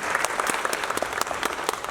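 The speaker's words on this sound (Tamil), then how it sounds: "அதை நான் சொல்லும் பொழுது கைதட்டுறீங்க இல்லையா" Audience applause at an award ceremony speech, steady dense clapping from a crowd filling the whole stretch with no voice above it.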